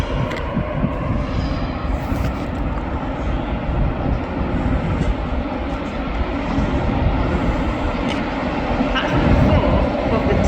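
An LNER passenger train draws into Doncaster station, a steady broad rumble of wheels and engine filling the platform at close range, growing slightly louder toward the end, with voices faintly present underneath.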